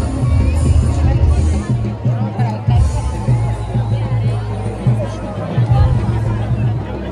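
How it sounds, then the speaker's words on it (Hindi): Dense crowd babble at the Dussehra festival in Almora, a steady hubbub of many overlapping voices close around, continuous throughout with low rumbling underneath. "काफी भीड़ भाड़ हो रही है,"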